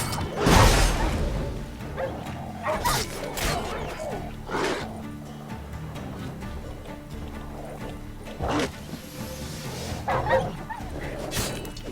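Dogs barking and yelping in the Witcher 3 video game, repeated sharp barks at irregular intervals, loud and close, with some whimpering between them.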